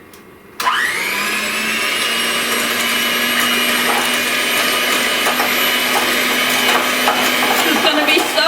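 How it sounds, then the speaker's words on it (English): Electric hand mixer whirring into Irish soda bread batter, starting abruptly and then holding a loud, steady motor whine close by, with slight wobbles as the beaters work through the mix and no talking. "I'm going to take my hand mixer and I'm going to mix all of this together"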